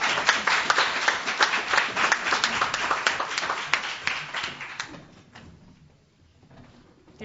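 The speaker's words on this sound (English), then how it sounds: "They deserve a huge round of applause." An audience at a veterans services summit applauds its student speakers with steady, dense clapping for about five seconds, then the sound fades to a quiet room.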